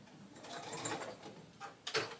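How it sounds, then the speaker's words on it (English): A sewing machine stitches the corner of a fabric tote bag in a faint, close run of rapid mechanical whirring, pausing briefly before a final short burst of stitches. "I'll just take my sewing machine"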